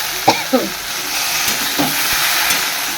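Okra fries in a pan with panch phoron tempering, salt, turmeric and chilli, giving a steady close sizzle and hiss with a few brief stirring clinks and scrapes near the start.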